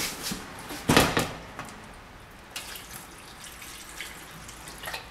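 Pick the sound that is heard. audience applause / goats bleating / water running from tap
water running from tap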